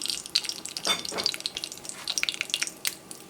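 Whole spices including bay leaves, cinnamon, cloves, cardamom, dry red chili and cumin seeds sizzle and splatter in hot oil, a dense crackle of sharp close pops and spits over a steady frying hiss, with no talk.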